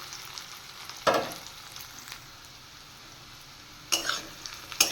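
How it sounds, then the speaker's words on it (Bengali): Chopped onions frying in oil after dried fish, a soft steady sizzle with a few louder bursts of stirring and crackle, no talk. "এবার তেলে দিয়ে দিয়েছি কুচিয়ে রাখা পেঁয়াজ। এবার পেঁয়াজগুলো আমি হালকা ভেজে নেব।"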